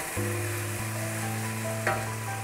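Chopped tomato fries in a pan with a loud, steady sizzle close by. A low hum runs underneath and a brief stirring scrape comes near the end.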